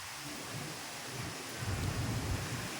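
Strong, steady typhoon wind roars through coconut palm leaves in Palawan for the whole clip, broadband and rushing, with gusts swelling louder toward the end; no voices.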